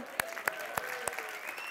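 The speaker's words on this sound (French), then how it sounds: "On peut s'applaudir." A small studio audience on a French-language talk show claps briefly, a faint, thin patter of applause with a few sharper individual claps standing out.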